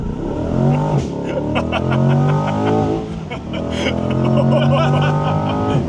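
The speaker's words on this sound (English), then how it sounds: "the first thing I had my dad do was try out launch control" An old Corvette launches hard under launch control, its engine note rising in steady harmonic sweeps through two gear pulls, loud and close, with people talking excitedly over it.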